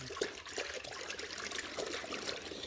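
Rinseless car wash solution is stirred into a bucket holding about 10 litres of water, giving close, continuous sloshing and trickling swirls with small splashy surges and no talk.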